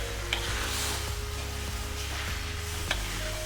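Pad Thai noodles frying in a hot pan give off a steady continuous sizzle, with a soft tap or two of a utensil against the pan. A low hum runs under it throughout.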